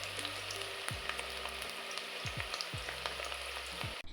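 Onions sauteing in a pan, a steady broadband sizzle and crackle throughout with a few stirring scrapes, close and fairly loud, no talking.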